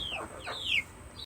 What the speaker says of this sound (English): Let's go feed the chickens and the ducks and give them some snacks because they're already yelling at us